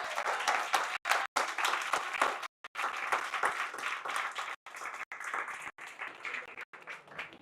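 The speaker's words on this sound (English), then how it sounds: "Round of applause for them." Applause at a laser tag tournament event: an indoor crowd claps steadily for several seconds, dense and moderately close, with brief gaps in the sound.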